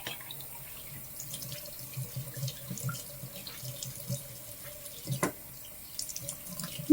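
Tap water runs steadily into a sink while someone rinses their face with a white towel, with soft splashes and a few louder sloshes near the end, close and alone with no talking.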